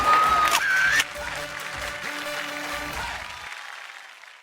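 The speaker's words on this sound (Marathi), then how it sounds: "जोरदार टाळ्या होऊन जाऊ दे" An audience applauds a prize winner at a televised women's event, moderate clapping that follows a short tone at the start, then fades out over a few seconds, with faint voices underneath.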